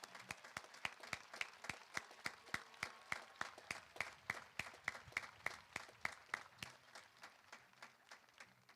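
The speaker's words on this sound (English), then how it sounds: "Please join me in a round of applause for these great patriots" Applause for veterans at a high school graduation ceremony, a steady run of sharp individual claps from a modest crowd, fairly even throughout and thinning slightly toward the end.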